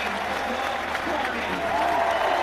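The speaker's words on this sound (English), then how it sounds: "will tap to his friend and colleague Rob Carney, who receives the applause of the crowd" A rugby stadium crowd at a 2010 Heineken Cup quarter-final between Leinster and Clermont Auvergne applauds a substituted player. The clapping forms a steady, distant wash while a commentator talks over it.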